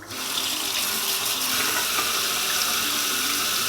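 Hot water runs steadily from a sink tap, a continuous close splashing rush that holds even from start to finish with no talking.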